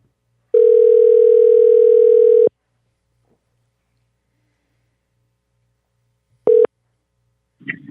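A telephone dial tone sounds loud and steady for about two seconds, then silence, then a second short tone burst before a faint voice begins.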